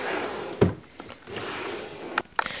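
A makeup storage drawer sliding shut, a single close knock with a soft thud, followed by faint rustling and a couple of small clicks in a quiet room.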